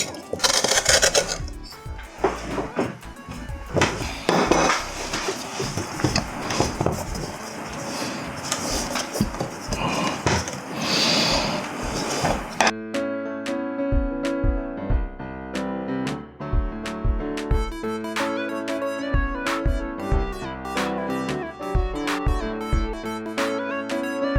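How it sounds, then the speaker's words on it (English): A carving tool scrapes out the inside of a pumpkin for a jack-o-lantern, making repeated rough rasping strokes up close for about half the time before plucked background music takes over. "Let me use this tool again to scrape out those excess again."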